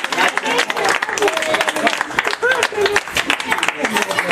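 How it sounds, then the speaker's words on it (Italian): Guests at a wedding-eve serenade for a bride clap in an uneven burst of applause, with speech mixed in over the clapping. "Un applauso per Peppe e Paolo"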